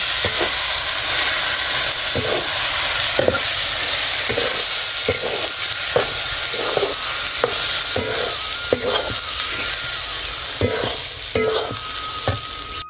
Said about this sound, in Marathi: आता वाटलेलं वाटण कढईत टाकून परतून घेते.